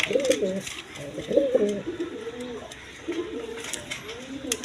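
Pigeons of several breeds, offered for sale, coo close by in repeated throaty, warbling bursts, sometimes overlapping, with low background noise between calls.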